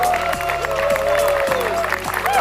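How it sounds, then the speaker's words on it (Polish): Guests at a company's 20th-anniversary jubilee picnic applaud a manager, a sustained crowd clap heard over a band's music with its gliding tones and steady low notes. "Wielkie brawa dla Szymona"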